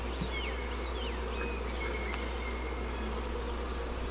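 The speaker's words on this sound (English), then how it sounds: "Move, bee!" Honey bees buzz continuously around an open hive during a honey harvest, a dense, steady droning hum from many insects close by with faint whines of individual bees passing.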